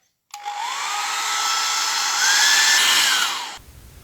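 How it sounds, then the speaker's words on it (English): A hair dryer switches on and blows with a loud, steady whoosh and high whine for a few seconds over a salt-sprinkled watercolor painting, then cuts off abruptly. "I'm going to see what happens when I give it a go with this here hairdryer"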